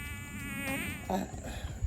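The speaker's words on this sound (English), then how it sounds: "Oh, these mosquitoes are vicious." A thin, high buzzing of mosquitoes close by, wavering in pitch over soft outdoor background noise.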